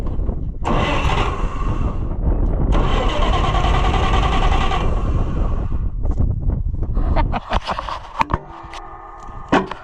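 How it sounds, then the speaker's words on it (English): An Oliver 1655 tractor engine cranks in two long bursts and tries to catch, loud and close, with wind noise on the microphone; after the second attempt it falls quiet and only scattered clanks and knocks remain. "Now why won't you start without the choke"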